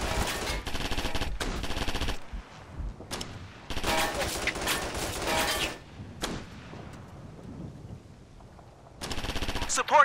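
Machine guns fire in rapid bursts during a battle in the military shooter game Operation Flashpoint: Red River, with several loud, dense volleys separated by brief lulls.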